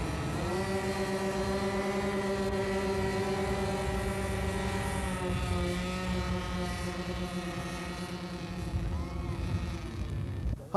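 A radio-controlled scale model airplane flies at the 1989 Top Gun tournament in Florida, its engine a continuous, loud droning whine with a slight pitch shift as it passes, sustained throughout.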